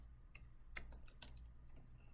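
A few quiet, separate keystrokes on a computer keyboard while someone types an Excel formula, sparse irregular clicks against a low background hum, with no talking.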